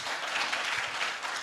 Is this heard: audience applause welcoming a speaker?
yes